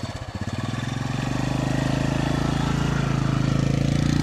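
A TVS Jive clutchless motorcycle engine starts and settles into a loud, close, steady running putter with an even rapid pulse, alone without talk.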